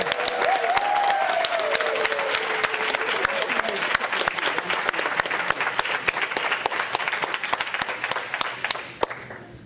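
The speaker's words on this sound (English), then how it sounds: "Can we get one more round of applause for our seniors before we begin?" Audience applause for graduating seniors at a student spotlight ceremony, a dense, sustained burst of many hands clapping that runs nearly ten seconds before tapering off, with a voice briefly audible early on.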